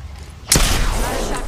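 Gunfire erupts in the shooter game Apex Legends, a sudden loud burst of shots after a quiet moment, continuing as a dense close volley.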